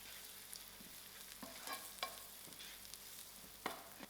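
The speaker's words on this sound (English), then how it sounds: "My masalas has fried out" Masala spices fry and sizzle quietly in a pan, a soft constant crackle broken by light scraping stirs and small taps.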